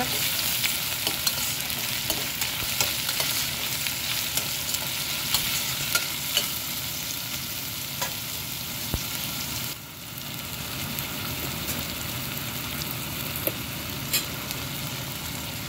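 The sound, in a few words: stirring chicken curry in a frying pan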